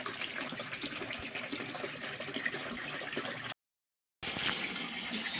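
Water runs steadily through a backyard pond bog filter, a continuous splashing trickle that drops out briefly before resuming at the same level, with no voices.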